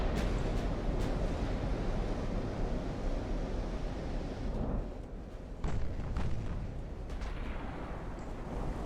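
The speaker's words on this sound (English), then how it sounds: "I just saw all 3 of those battle cruisers fire at the exact same time" Battlecruiser guns fire in the Ultimate Admiral: Dreadnoughts naval game over a constant heavy roar of sea and engines, with several booming salvos standing out, including a couple of louder blasts near the end.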